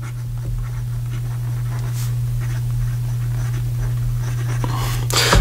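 An 18 karat gold medium nib Graf von Faber-Castell fountain pen writes on paper, a faint continuous scratching with occasional short strokes over a steady low electrical hum, ending with a louder scrape.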